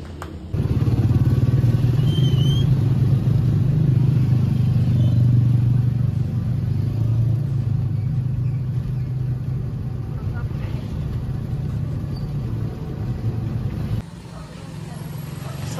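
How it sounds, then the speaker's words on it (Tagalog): A motorized tricycle engine drones steadily and loud for the whole stretch, a low rumbling putter with rattling, running on a ride near an island resort in Coron, with people talking over it. "Request kami guys ng tricycle."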